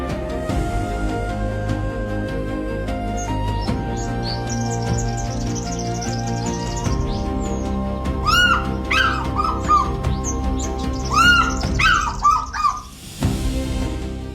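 An African fish eagle calls near lakes, rivers and wetlands, giving a run of ringing, yelping cries in the latter half, mixed with smaller bird chirps over a steady musical background.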